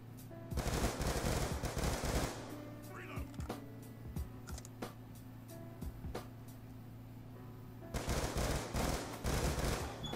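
Rapid bursts of video game gunfire crackle in dense volleys, with a pause in the middle before another heavy burst resumes and a grenade launcher kill; faint clicking underneath.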